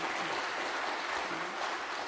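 Church seminar audience applauding for the men's committee members, a steady, moderately faint patter of many hands clapping in a hall.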